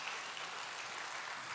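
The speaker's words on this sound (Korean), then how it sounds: "우리 수고하신 모든 분들에게 박수 한번 부탁드릴까요?" A church congregation applauds together during a Sunday service, a steady, dense wash of clapping with no pauses and no speech over it.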